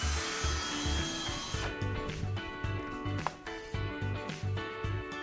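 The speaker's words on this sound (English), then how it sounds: "Using the drill guide supplied, drill a pilot hole in the upper right hole." A power drill bores a pilot hole through an elevator wall panel with a supplied drill guide, a steady near motor whine and grinding with brief pulses of the bit biting in, no talking.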